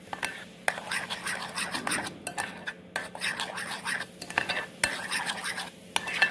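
Eggless mango bread batter is stirred in a bowl with continuous scraping and rubbing strokes, a utensil clinking against the sides in an uneven rhythm; close and fairly loud, no voices.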